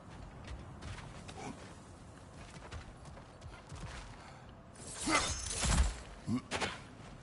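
Objects smashing and breaking in God of War Ragnarok, a loud crunching burst near the end after quieter creaks and footsteps, followed by a couple of short impacts.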